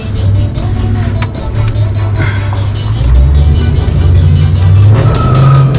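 Truck driving past outside a garage, a loud engine rumble that swells and lingers near the microphone, with low tonal drone shifting upward partway through.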